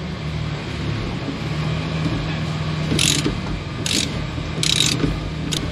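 Ratchet wrench clicking in short bursts on the steering assembly nut of a Nissan 350Z, heard over a steady background hum in a garage setting.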